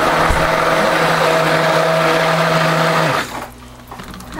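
Stick blender running loud and steady with a constant whirring hum for about three seconds, then cutting off to near quiet, during rose jam soap making.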